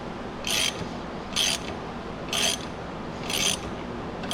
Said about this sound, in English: Y'all know I like to use my ratchets, man.